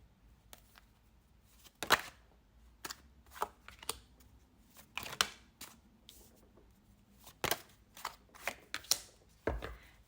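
A deck of cards is shuffled by hand, in a quiet room, as soft repeated riffling bursts and light slaps, fairly close, with no talk.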